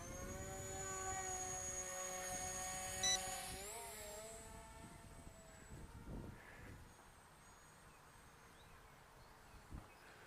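An XK X520 VTOL drone takes off with a high, droning whine that holds steady for a few seconds, pitches up, and then fades as the craft moves off, leaving faint wind and scattered soft knocks.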